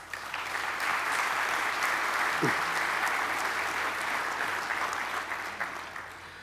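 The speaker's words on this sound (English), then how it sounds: "Please give your faculty and yourself and staff a massive round of applause on this." A graduation audience at Nelson Mandela University's Gqeberha campus applauds steadily, a dense, sustained wash of clapping from a large hall that holds for several seconds before tapering slightly at the end.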